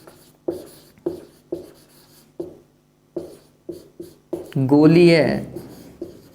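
Chalk or pen tapping and scratching on a board during a physics lesson on lenses, in a steady run of short strokes with brief pauses, followed by someone speaking over the last stretch.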